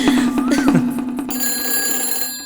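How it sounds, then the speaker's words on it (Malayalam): A telephone rings in a village home, its trilling bell tone repeating loudly in quick pulses for about a second, then a steadier electronic ringing tone carries on close by. "ഫോൺ കിടന്ന് അടിക്കുന്ന കണ്ടില്ലേ"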